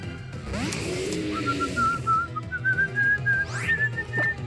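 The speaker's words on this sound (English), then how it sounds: "I started whistling the wrong bit" Someone whistles a tune during a Pokémon Moon Elite Four battle, a clear high melody of short wavering notes, played over game music.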